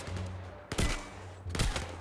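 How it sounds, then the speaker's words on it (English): Gunfire from the VR shooter game Zero Caliber comes in two loud bursts of rapid shots separated by a short pause, with a low background hum between them. "where is he shooting?"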